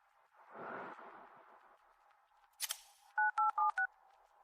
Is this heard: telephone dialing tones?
yes